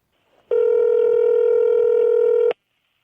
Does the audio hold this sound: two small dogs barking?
no